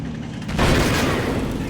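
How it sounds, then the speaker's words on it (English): A tank cannon in the World War II strategy game Combat Mission Normandy fires with a sudden heavy boom after a brief quiet lead-in, then a long, dense rumbling tail that fills the rest of the moment. "Okay, it was a cannon."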